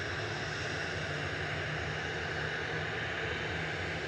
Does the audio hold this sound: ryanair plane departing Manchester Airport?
yes